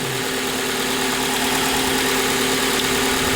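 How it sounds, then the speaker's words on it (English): A 2010 Hyundai Elantra GLS with a cast iron block and solid lifters idling, a steady, even engine drone with a constant low hum and ticking valvetrain noise heard up close, with no talking. "The engine warms up, it quiets down."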